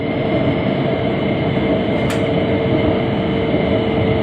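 Steady loud rumble and hum of a Kunming Metro Line 3 train in motion, heard from inside the car, with one brief high squeal partway through.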